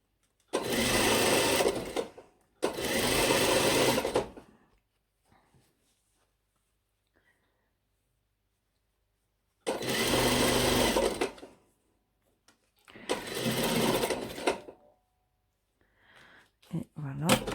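A sewing machine stitches a blazer seam in four loud bursts of roughly one and a half to two seconds each, separated by quiet pauses with faint handling noises.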